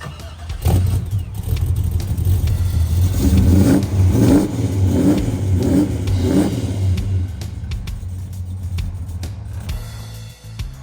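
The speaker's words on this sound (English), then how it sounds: "I'm just backing the car up." A car engine hums close by as the car reverses slowly, revving in a few rising pulses, then settles and fades near the end.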